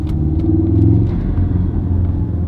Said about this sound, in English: Just trying to show you the intake noise